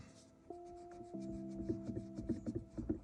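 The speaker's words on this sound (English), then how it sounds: "Let me erase that a little bit." A pencil drawing being rubbed out with an eraser on paper, a quiet run of short scrubbing strokes that quickens into rapid back-and-forth rubbing.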